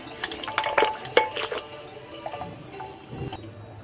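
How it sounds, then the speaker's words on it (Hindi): Curd is whisked in a bowl for raita with bathua, a utensil scraping and tapping in quick irregular strokes up close, then slowing to softer stirring. "अब दही को फेंट लेंगे।"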